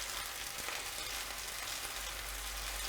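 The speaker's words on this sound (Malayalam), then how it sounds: "ഇതിൻ്റെ അകത്തേക്ക് നമ്മൾ മാരിനേറ്റ് ചെയ്ത് വെച്ച ബീഫ് നമുക്ക് വെച്ച് കൊടുക്കാം" Marinated beef hits hot oil in a pan for a stir fry with bean sprouts, giving a steady, close, hissing sizzle that holds evenly throughout with no talking.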